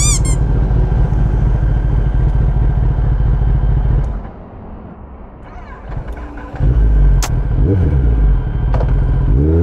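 Malfunctioning Kawasaki ZX10R superbike on the road: a loud, close engine drone with squeaks and clatter, dipping to a rough, quieter stretch midway before revving back up strongly.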